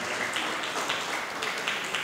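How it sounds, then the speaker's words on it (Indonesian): A church congregation claps steadily, a soft continuous patter of applause at moderate distance. "luar biasa tepuk tangan dong"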